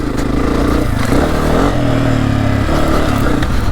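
A dirt bike engine drones steadily and loudly at close range as the rider heads into rutted ground too fast, with the pitch shifting as the throttle changes and no voices heard.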